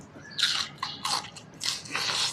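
Someone bites into fermented fish (pla som) eaten with khi lek curry, giving four close, moist crunchy bites in a steady rhythm with no talking.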